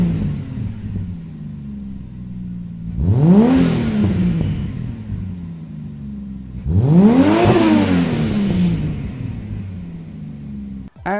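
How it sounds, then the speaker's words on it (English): A naturally aspirated Toyota Supra exhaust revs twice in close succession, each blip climbing sharply in pitch and falling back to a rumbling idle, loud and near with no talking. "As for that exhaust note, I did film a couple of clips with my microphone the other day,"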